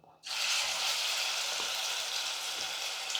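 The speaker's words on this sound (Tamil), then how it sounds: "இந்த சிக்கன் வந்து எண்ணெயில் போட்டு வறுத்து எடுத்துக்கலாம்" Marinated chicken dropped into hot oil in a kadai bursts into a loud, dense sizzle that starts abruptly and holds steady, with a few faint clinks in the background and no talking.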